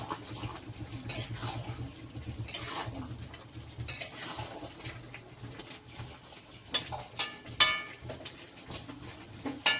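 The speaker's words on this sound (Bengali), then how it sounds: "ছড়িয়ে একটু নাড়িয়ে নিলাম যেহেতু ওটাও তো কাঁচা একটু সেদ্ধ হয়ে যাবে" Chilli chicken being stirred in a pan, with scattered scraping and clinking taps of a utensil against the metal over a faint sizzle, some strokes louder and closer, no voices.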